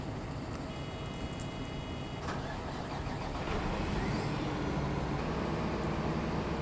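Farm machine engine in Farming Simulator 15 cranking over and catching, then settling into a low rumbling idle that grows slightly louder.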